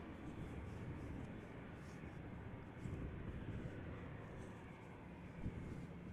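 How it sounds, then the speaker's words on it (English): A United Airlines Boeing 787-8 Dreamliner, nine years old, departing Amsterdam Schiphol for Chicago O'Hare, gives a steady, loud broadband jet roar that holds evenly throughout. "United Airlines going to Chicago O'Hare, flight 908 7878 Dreamliner."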